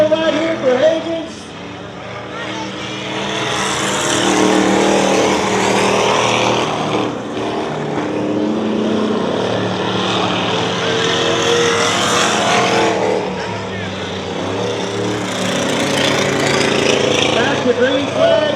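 Race cars roar around the Dirtona Raceway dirt track, engines droning loud and continuous with rising and falling swells as the pack passes, while an announcer talks over the racing.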